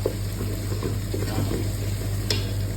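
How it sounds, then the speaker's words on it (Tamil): Ginger and garlic stir-fried in a pan, a steady low sizzle with occasional soft scraping strokes, heard up close alongside a constant low hum. "இது நல்லா வாசம் போகிற வரையும் நல்லா கிண்டிக்கணும்."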